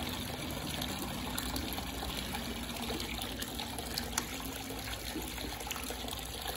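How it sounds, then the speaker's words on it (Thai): A 12 V DC water pump runs from an old solar-charged battery with a charge controller and a 35 W panel, giving a steady close whirring hum mixed with a continuous rush and trickle of flowing water, unbroken throughout and without speech. "เดี๋ยวมาดูว่าปั๊มน้ำตัวนี้มันกินกระแสเท่าไหร่นะ"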